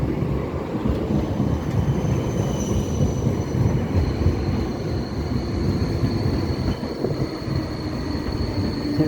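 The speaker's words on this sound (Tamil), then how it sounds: "இதோ இங்கே ஒரு ஆப்போசிட் சைடில் ட்ரெயின் வருது" A train rumbles steadily past on the tracks, a continuous loud roar of wheels and carriages with faint high squeals.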